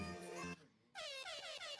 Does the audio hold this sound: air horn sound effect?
yes